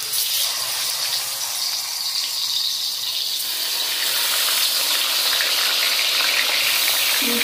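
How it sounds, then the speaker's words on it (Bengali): Fish pieces fry in mustard oil in a wok, giving a loud, dense, continuous hiss close by that holds steady throughout; no one speaks. "এক এক করে মাছগুলো কড়াইতে দিয়ে দেবো।"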